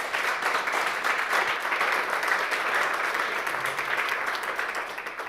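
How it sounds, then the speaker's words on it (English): An audience at a European data summit conference claps steadily for the panelists, a dense, even wash of applause that carries on throughout with no break. "Please join me in a range of applause for our panelists here today."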